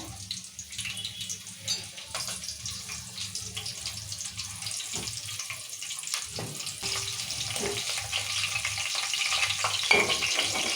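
Onions sizzle in hot oil in a pan while a mutton curry is being made, a steady broadband hiss with occasional stirring clatters, growing slightly louder toward the end.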